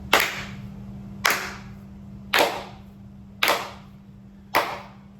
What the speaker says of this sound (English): Can we get the slow clap?